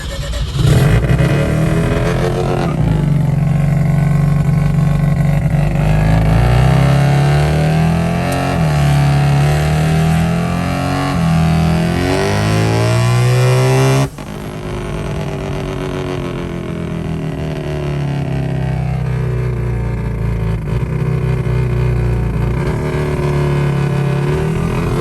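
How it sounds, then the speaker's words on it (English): A car engine revs and pulls through first, second and third gear on a test drive, loud and close, its pitch climbing and dropping with each shift before settling to a lower steady drone. "We're gonna give it a little test drive, make sure it goes through the gears"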